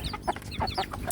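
KUB chickens, three months old, clucking in a coop at a residential backyard farm: several short, close, repeated clucks in an uneven rhythm, with no talk over them.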